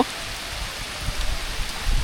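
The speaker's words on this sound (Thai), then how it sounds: "ตอนนี้ฝนตกเนาะ" Steady rain falling outdoors during a fishing trip, a continuous dense hiss with scattered heavier drops near the end, with no voices.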